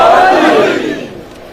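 A large crowd gathered at Jinnah Chowk in Abbottabad for a Muharram Ashura gathering shouts a loud, swelling chant in unison, which fades over about a second and a half.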